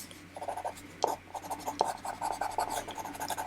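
A watercolour pencil scratches and scribbles across paper, close and dry, in irregular short strokes that bunch into quicker rubbing bursts, fairly quiet with no voices.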